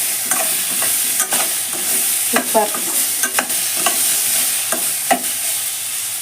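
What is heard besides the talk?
tempering spices with turmeric frying in a pan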